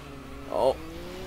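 Dodge Viper sliding in the racing video game Sega GT, a brief loud burst of engine and tire squeal with a rising tonal whine, set against steady low engine drone and game background.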